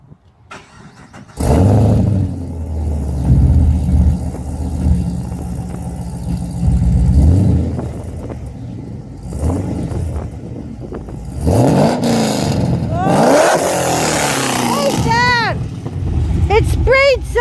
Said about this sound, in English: Okay, just go in the car and start it.